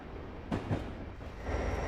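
A train in the Train Simulator 2020 game on the Soldier Summit line in the US, a low rumble with a couple of heavier knocks near the start and a steady rolling sound picking up toward the end.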